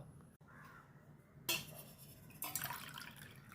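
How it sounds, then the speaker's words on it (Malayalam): Water is poured into a cooking pot for a homemade hair-darkening mix with onion skins. It comes as two short, faint splashing pours against a quiet background, with no talking. "ഒന്നര ഗ്ലാസ് വെള്ളം ഒഴിച്ചു കൊടുക്കാം കേട്ടോ"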